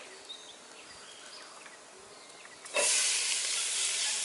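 Chopped carrot, celery, onion and garlic hit a hot pan at a camp cook-out, and a quiet outdoor background with faint insect-like buzzing gives way to a sudden, loud, steady hiss of frying.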